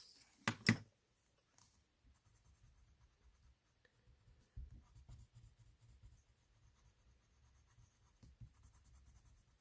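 A Crayola Blend and Shade colored pencil colors on paper, giving faint, soft scratching strokes that continue steadily and quietly with no talking.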